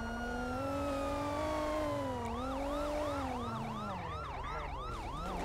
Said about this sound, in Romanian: trage pe dreapta poliția